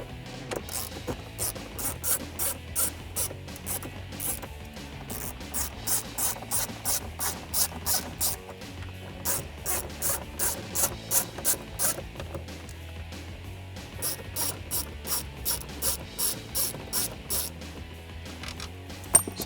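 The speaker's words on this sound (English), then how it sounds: "Take my 1/4 inch drive with my 7mm and remove these 4 screws to remove the radio." A 1/4-inch drive ratchet with a 7mm socket backs out the radio screws in a 2014-2018 RAM 1500 dash. Close, crisp bursts of rapid clicking repeat in steady strokes, pausing briefly between screws.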